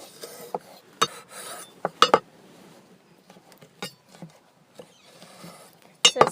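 A kitchen knife splits a chilli pepper down the middle, giving sparse, close, sharp taps and clicks with short soft scraping rasps between them and quiet gaps in between.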